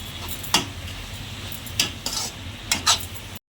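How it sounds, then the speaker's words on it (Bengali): A spatula repeatedly scrapes and clatters in a pan while mixed vegetables and eggs are stir-fried together for chow mein, with a faint sizzle underneath the irregular strokes. "ভেজিটেবল আর ডিম পুরোটাই আমি মিক্সড করলাম"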